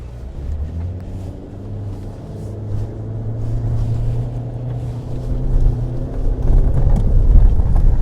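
A steady GWM Poer diesel pickup truck engine rumble with a low droning hum, building louder toward the end as the truck pulls harder; no voices.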